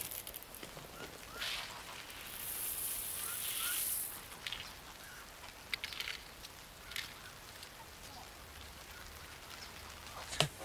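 Light rain falls outdoors on a farm where chickens and ducks shelter: a soft, steady patter with scattered sharper drops, faint throughout and with no voices.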